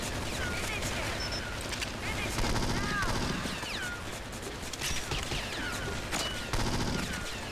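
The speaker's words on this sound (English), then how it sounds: "The briefcase is shooting at him." Briefcase gun firing in the 2002 PC video game 007: Nightfire, rapid bursts of automatic gunfire repeating through the stretch amid other game sounds, fairly quiet overall.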